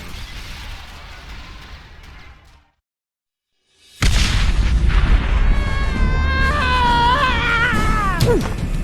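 A giant Dark Eco crystal destroyed in a video game: low rumbling, then a brief silence before a loud booming explosion with crackling debris and rising, sweeping tones that fall away sharply at the end.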